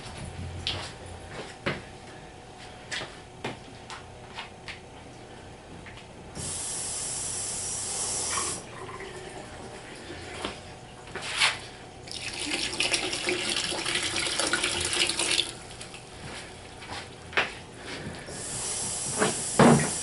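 Cold water runs from a tap to mix a foundry patch, coming as quiet hissing streams that start and stop, with scattered soft clunks and knocks between them and no talk.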